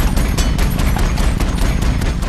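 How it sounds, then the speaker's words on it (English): Massive cannon fire from the Avatar amp suit, made as a film sound effect, booms in a rapid, loud, dense barrage of repeated heavy shots across the whole stretch. "the amp suit has to sound like the most massive cannon you ever heard"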